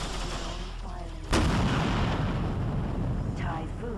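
Typhoon missile launched in the space combat game X3 Albion Prelude: a sudden loud blast and rushing roar cuts through continuous engine hum and stays loud to the end, with faint warbling electronic tones around it.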